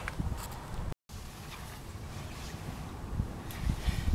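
Wind blows outdoors during a transmission fluid change on a 2012 Honda Pilot 4WD, a steady rumbling gusty buffeting with low thumps against the microphone, continuous apart from a short dropout.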